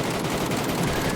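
Rapid automatic rifle fire from an MK rifle in PUBG on console, a dense continuous burst of shots with no talk, lasting just over a second.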